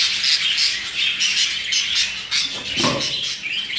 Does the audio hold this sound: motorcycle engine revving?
no